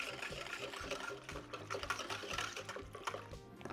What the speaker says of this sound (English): Going to whisk together the water and starter